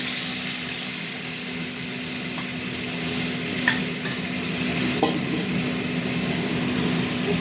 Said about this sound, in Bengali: এবার আমি এই যে আলু আর লাউ সিদ্ধ করা জলটা ঢেলে দিলাম।